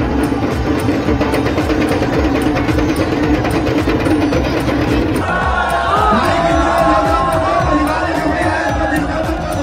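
A dense crowd roars and bustles at a riverside ghat during Masane ki Holi, the loud continuous din of many voices with rhythmic beats and traditional songs mixed in, heard alongside a narrator's voice.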